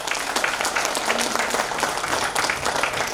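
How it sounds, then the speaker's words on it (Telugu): A hall crowd applauding at a corporate nutrition company event, dense and steady clapping from many hands that fills the whole short stretch. "మీ అందరికీ కూడా బిగినింగ్ క్లాప్స్ అండి."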